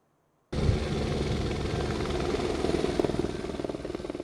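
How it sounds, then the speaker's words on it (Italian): Firefighting helicopters fly over a wildfire on Monte Raut, a sudden loud rotor roar starting after a brief silence and continuing with steady chopping pulses. "Dalla mattina di oggi è stato un via vai di 2 elicotteri alimentati dalla vasca riempita dai vigili del fuoco"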